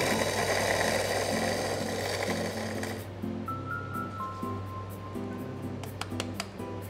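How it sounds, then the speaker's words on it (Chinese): A coffee grinder set to 4.5 grinds medium-roast Golden Mandheling beans with a loud, steady whirring roar for about three seconds, then cuts out, leaving quieter clicks and small mechanical sounds. "那我们就磨豆子"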